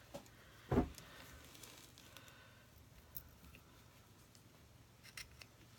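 Scissors snip through knitting yarn with a single crisp close cut, followed by faint handling taps in a quiet room.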